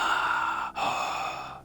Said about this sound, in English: Every time we see one of those that plays that little breathing sound